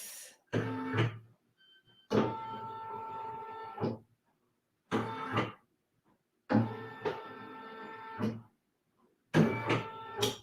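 An embroidery machine runs a quick trace of the design outline for a patch, producing four separate whirring, buzzing motor bursts of one to two seconds each, split by short silences and heard alone.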